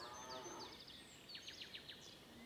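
Cows moo out in a pasture, giving low, drawn-out calls mixed with quick bird chirps, fairly faint and with no talking.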